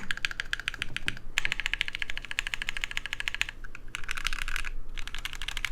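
Rapid typing on a mechanical keyboard whose switches ping and ring inside the case; close, steady clicking bursts with brief pauses, no voices.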